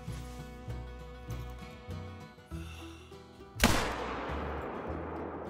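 A single loud rifle gunshot in theHunter: Call of the Wild cracks out sharply after a stretch of soft, rhythmic musical tones, then fades in a long outdoor echo.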